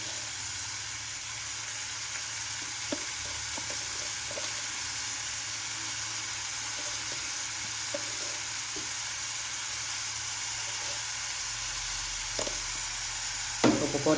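Sliced onions fry in hot oil in a pan for a Tamil-style mutton curry, a continuous bright sizzle with occasional scraping knocks as a spoon stirs them, no talking over it.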